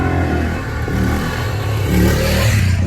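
A motorbike engine revs hard and continuously during a wheelie, a loud, rough mechanical drone close by that rises slightly in pitch toward the end.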